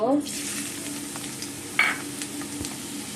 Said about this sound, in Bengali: পেঁয়াজ কাটা এখানে আছে কাঁচামরিচ আর আছে এখানে আস্ত জিরা একটু হলুদের গুঁড়ো আর সামান্য একটু মরিচের গুঁড়ো তো এগুলোকে আমি এখন তেলে কষিয়ে নেব